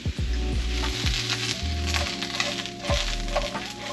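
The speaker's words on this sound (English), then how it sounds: "the first thing I'm gonna cook off is the mushrooms. So just put that into the pan" Mushrooms sizzle steadily in an oiled pan during a home stir fry, with a continuous crackling fry and a few clinks of utensils against the pan over it.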